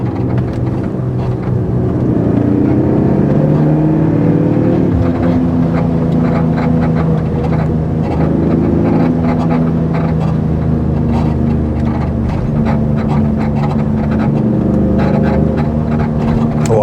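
A BMW 540i E39 with a V8 and manual gearbox accelerates hard, its deep engine note rising and falling through gear changes, loud and close throughout.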